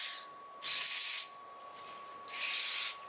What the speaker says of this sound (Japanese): ちょっと空気を含むように、 はい、スプレーを吹きかけていきます。